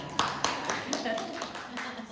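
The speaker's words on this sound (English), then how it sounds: "let's clap for her." Small gathering clapping for a participant during a mainframe open-education session, a brief patter of claps over a busy room, moderately close, with voices talking underneath.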